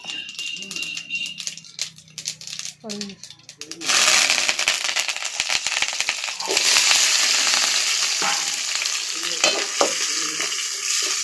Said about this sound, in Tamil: எண்ணெயை ஊற்றி கடுகு போட்டிருக்காங்க